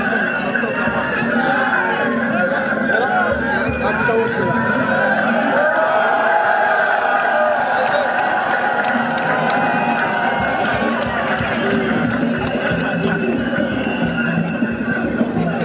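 Large outdoor crowd at a political rally in Aboisso, Côte d'Ivoire, applauding and cheering in a dense, steady roar that fills the whole stretch, with voices and chatter mixed throughout.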